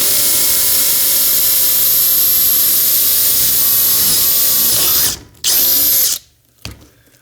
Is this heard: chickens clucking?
no